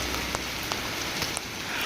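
Steady rain patters on a surface, a soft, even hiss with occasional sharper drips.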